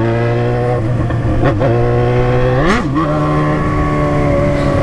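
Yamaha XJ6 motorcycle riding downhill with failed brakes, its engine a loud close steady drone that dips briefly and then climbs in pitch with a rev, settling back to a smooth hum.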